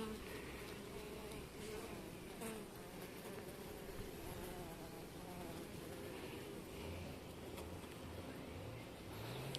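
A dense, continuous hum of many Carniolan honeybees buzzing together at a hive, close and steady, forming a droning swarm sound with no voices.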